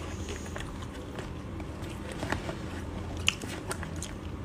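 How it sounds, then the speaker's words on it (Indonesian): Grated potato crisps being eaten hungrily by several people at a meal with egg and meat, giving steady close crunching and biting textures throughout, with occasional sharper crunches. "Kita makannya kayak kelaparan."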